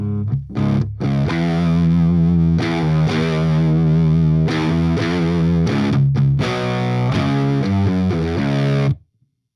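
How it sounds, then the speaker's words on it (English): Electric guitar through a SoloDallas Orbiter fuzz pedal with the fuzz backed off, giving a cleaner, subdued drive; sustained chords and riffs ring loud and steady for about nine seconds, then stop abruptly. "if I back off the fuzz, you can hear things get,"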